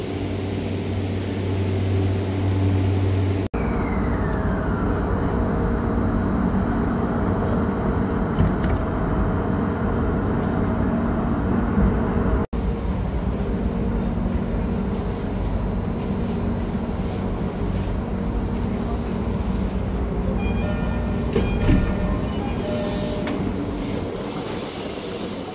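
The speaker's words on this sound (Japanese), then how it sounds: "これから鶴見線に乗って国道駅に行きたいと思います。 この列車に乗って行きます。" A JR Tsurumi Line train heading for Kokudō Station, a steady loud rumble of wheels and motor that runs throughout, with a faint rising whine and occasional rattles from the car.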